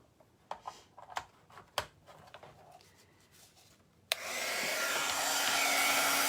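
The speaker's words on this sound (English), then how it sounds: "I didn't plug in my heat gun. Let me do that real quick." A heat gun switches on with a sudden burst of loud, steady blowing air that continues without a break, preceded by a few scattered small taps and clicks.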